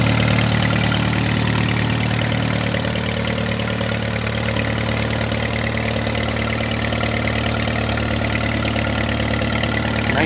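A 1936 Case RC tractor engine runs close by at a steady, loud idle. The low mechanical drone stays constant throughout and is heard on its own, with no talk.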